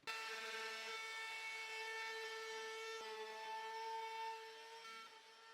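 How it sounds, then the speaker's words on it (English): A 2x6 board being sanded with fine 220 grit, a steady, tonal, power-tool-like whine with strong harmonics, continuous and fairly close, easing off slightly near the end. "I'm going to go ahead and sand it again"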